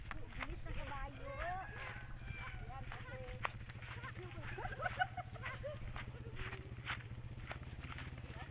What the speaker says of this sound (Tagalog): Bilis na kabayo.